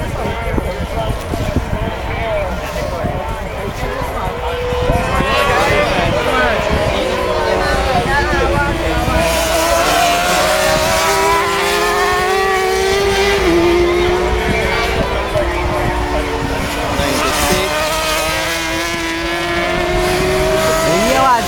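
A superbike engine runs steadily and loud throughout, with shifting revs and tonal whine, while people talk over it in the background.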